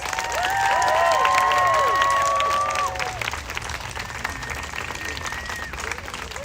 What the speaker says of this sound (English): Please give a round of applause for Ses.